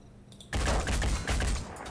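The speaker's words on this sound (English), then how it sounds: "He's going to take a shot." Gunfire in the turn-based tactics game Phoenix Point: a loud, sustained burst of shots erupts after a brief quiet, with a short dip before a second heavy volley rolls on.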